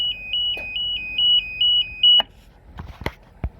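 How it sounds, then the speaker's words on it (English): An electronic device beeps rapidly in a repeating two-tone pattern for about two seconds, then stops, followed by a few faint clicks and knocks. "and it keeps beeping."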